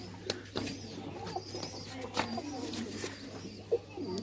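Pakistani pigeons from across the border coo softly in a few scattered short calls against a steady low hum and faint background noise.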